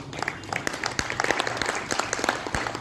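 An audience claps loudly at an Arya Samaj devotional gathering, a dense burst of applause with sharp individual claps close by.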